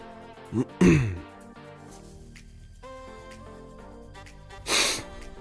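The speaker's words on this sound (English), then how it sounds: "Apologies for all the sniffing if it's being picked up on the mic." A person sniffs sharply a couple of times close to a microphone, then gives another loud snort-like sniff a few seconds later, over quiet music and background sounds.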